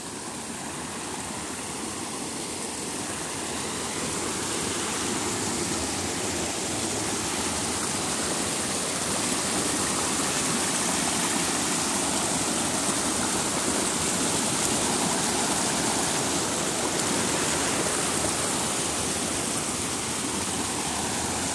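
Water beginning to spill over a full reservoir dam at Açude do Poço Grande after heavy rains, a steady broad rushing flow that swells slightly and holds constant with no talking.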